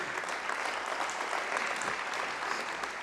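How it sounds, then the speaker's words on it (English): An audience at a church gathering claps for a woman, a steady, even wash of many hands applauding at moderate loudness throughout. "Yeah, you can clap for her again, everybody."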